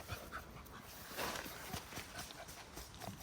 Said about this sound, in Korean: 블랙탄 강아지 우리 매화